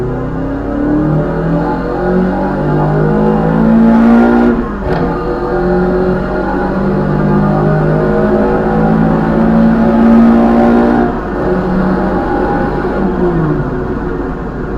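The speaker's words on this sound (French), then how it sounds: "on va se mettre un petit coup d'accélérateur pour voir ce que ça donne en accélération" Renault Clio Williams accelerating hard, engine note climbing through two gear pulls with a brief dip at the shift, loud and close from inside the car.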